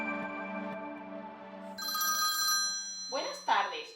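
A telephone rings with electronic tones for a call to book a hotel room, and a voice begins speaking near the end.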